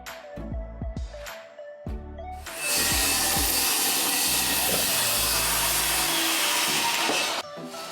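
A power saw cuts a section of Mountain Laurel deck handrail, with a few knocks and handling sounds before the blade starts, then a loud, steady high whine for several seconds that stops abruptly.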